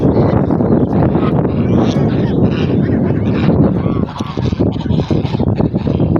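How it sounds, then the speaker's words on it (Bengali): Domestic geese honk repeatedly nearby in a flooded village amid wind buffeting the microphone, with a voice speaking over the noisy scene. "রাজহাঁসগুলো খুব সুন্দর লাগতেছে, আমাকে দেখে ডাকাডাকি করতেছে"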